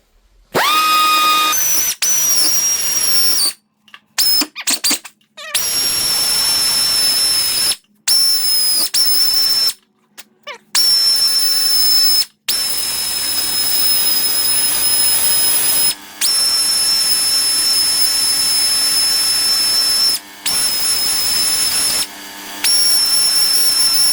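A power grinder works on the water bypass spout of a 72 F100, sounding as loud, high, whining bursts of several seconds each, broken by short silent pauses.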